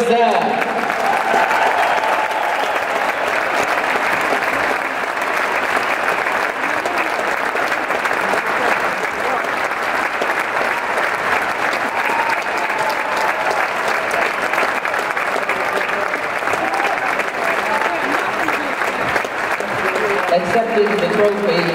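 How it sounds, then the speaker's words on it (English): Sustained crowd applause in an arena at a 2015 AAC women's championship trophy presentation, dense continuous clapping lasting over twenty seconds at an even, loud level. "let's all give a round of applause to the Bulls of USF."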